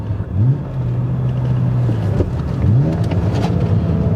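A BMW E90 330i's engine pulls hard under acceleration, its tone climbing, dipping at a gear change, then rising again with a throaty rumble, close and loud.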